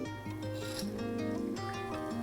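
A carving chisel held in an SVS-38 jig is sharpened against a turning Tormek whetstone and moved side to side. The wheel's motor gives a steady low hum, with the close rasping scrape of steel on stone over it.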